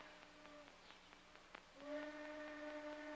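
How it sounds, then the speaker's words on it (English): A steam train whistle from a 1946 American Western film sounds in the distance, a steady tone that breaks off and then returns as a sustained chord over faint background noise. "Train whistle."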